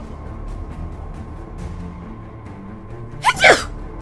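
A single sharp sneeze bursts out near the end, loud and close, over a low steady background hum from a Batman: Arkham Origins game session.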